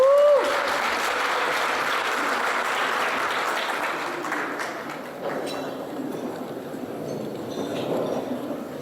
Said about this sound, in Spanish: Y dense un aplauso, por favor.